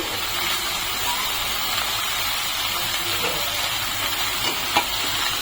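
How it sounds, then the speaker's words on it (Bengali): Young bottle gourd sukta simmers and sizzles in a pan while being stirred with salt, producing a constant steamy hiss with occasional faint scraping taps. "লবণ দিয়ে ভালো করে নেড়ে নিচ্ছি"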